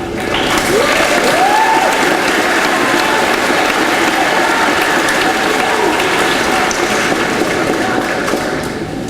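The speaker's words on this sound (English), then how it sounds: "Great to see so many students clapping" Students clapping at a middle school ceremony, a loud, dense, continuous roar of many hands with whoops or a brief shout rising above it.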